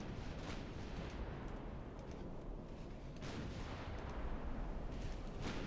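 Naval gunfire in the warship game Ultimate Admiral Dreadnoughts, with several dull distant booms of ship guns over a steady rumbling battle ambience, fairly faint throughout.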